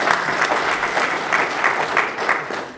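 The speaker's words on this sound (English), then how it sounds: "Give yourself a round of applause," Graduation ceremony audience applauding at a public safety bachelor's and master's diploma ceremony, a dense, steady wash of many hands clapping that holds at an even, loud level throughout.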